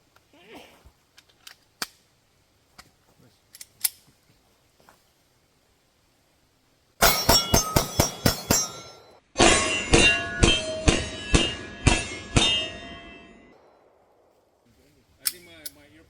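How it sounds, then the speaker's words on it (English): A Smith & Wesson Shield pistol fires a rapid string of loud, sharp shots at steel five yards away. A second fast burst follows, and faint clicks and handling noises come before and after. "next I'm gonna do mag dump on 5-yard steel"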